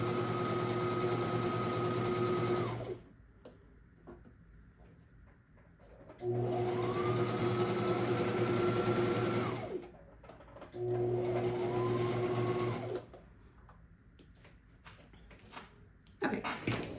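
A sewing machine runs in three bursts of steady whirring motor hum and rapid stitching while sewing a quarter-inch seam on a scrappy rainbow quilt block, with quiet pauses between runs.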